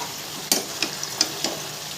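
Vegetables stir-fried in a pan, a steady sizzle broken by several sharp scraping stirs of a spatula, close and fairly loud with no talking.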